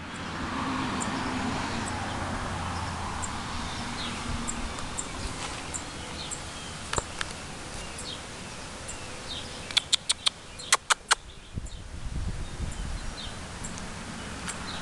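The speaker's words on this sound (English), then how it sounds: "You can hear her chirping." A mother bird chirps near her nest in a rose bush outdoors, with scattered faint tweets over steady background hum and a cluster of sharp clicks and chirps midway.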